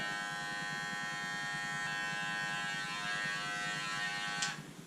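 An electric hair clipper, its blade closed a notch, buzzes steadily and close up for nearly five seconds during a barbershop haircut, its hum ending in a brief scrape near the finish.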